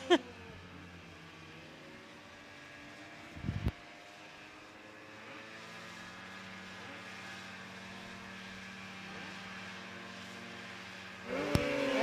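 Snowmobiles in a Superstock 340 three-lap final at Eagle River race together at the start, a steady engine drone holding for most of the stretch, with sharp loud bursts near the beginning and end.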